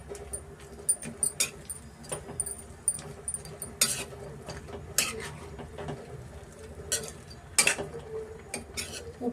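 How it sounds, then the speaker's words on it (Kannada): Chicken pieces are mixed with ground green paste in a bowl while preparing burnt garlic onion pepper chicken chops, heard as irregular scrapes and clinks of a spoon against the bowl, close and fairly quiet. "ರುಬ್ಬಿ ಮಾಡಿ ಇಟ್ಕೊಂಡಿರೋ ಗ್ರೀನ್ ಪೇಸ್ಟ್ನ ನಾನು ಆ್ಯಡ್ ಮಾಡ್ತಾ ಇದ್ದೀನಿ. ಚೆನ್ನಾಗಿ ಮಿಕ್ಸ್ ಮಾಡಿಕೊಟ್ಬಿಡೋಣ."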